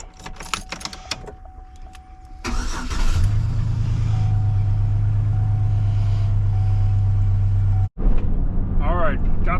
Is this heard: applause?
no